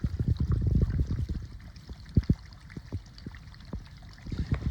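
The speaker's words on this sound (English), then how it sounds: "gurgling sound that you hear is water that's in the soil underneath the slab that has actually made its way to the radon pit" Water gurgling through soil beneath a concrete slab into a radon pit, heard as irregular low bubbling pops and glugs in clustered bursts over a quiet background, close and fairly faint.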